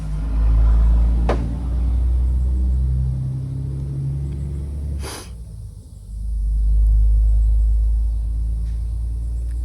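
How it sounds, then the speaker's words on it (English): A truck passing on a nearby road, heard as a loud, steady low rumble that swells, dips briefly in the middle, then builds again, with no one speaking. "Hold on, truck passing."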